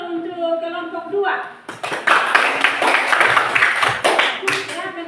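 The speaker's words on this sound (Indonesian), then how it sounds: "Kita tepuk tangan dulu untuk kelompok 2." Classroom applause breaks out for a student group, a dense burst of clapping from many hands that follows a teacher's voice and carries on under chatter before fading near the end.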